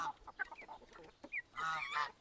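Several geese on a poultry farm honk in loud, nasal bursts, a few scattered calls first, then a denser, overlapping chorus of honking near the end.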